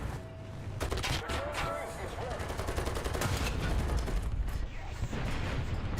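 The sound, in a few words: gunfire from the player shooting in War Thunder video game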